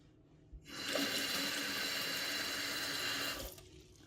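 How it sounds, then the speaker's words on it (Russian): Cold water pours steadily into a small container of walnuts, a loud continuous rush that starts abruptly, holds for about three seconds, then cuts off. "Добавляю холодной воды."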